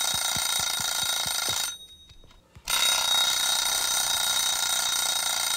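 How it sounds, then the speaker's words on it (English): An alarm clock rings in the game My PlayHome Plus, a loud continuous electronic ringing that cuts out for about a second, then resumes, with faint ticking clicks beneath at the start. "Wake up brother and the baby, because the alarm clock is on the brother."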